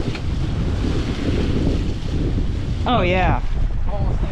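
Strong wind roars across the microphone on a boat crossing from Kelleys Island to Pelee Island, a constant heavy rumble with water wash beneath, and a person briefly speaks over it near the end.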